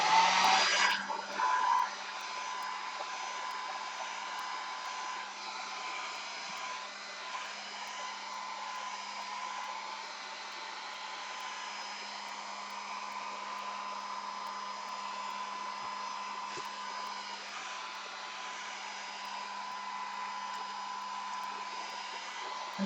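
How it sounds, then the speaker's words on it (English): A hair dryer blows steadily with a constant whooshing whir, starting with a brief louder burst, then running evenly throughout. "Hair dryer."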